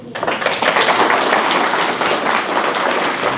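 Audience applause after a talk at a UVARC March meeting, a steady dense burst of clapping from a roomful of people, loud and continuous throughout with no voices on top.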